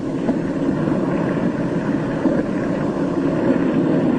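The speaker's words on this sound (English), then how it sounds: "His one remaining engine is losing power." A steady, loud drone from a failing aircraft engine on a 1947 US Navy plane in Antarctica, a continuous low roar with no voices.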